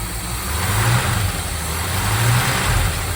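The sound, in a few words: 1970 GMC 2500 engine revving with throttle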